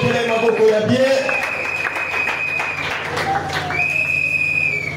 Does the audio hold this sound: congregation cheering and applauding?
yes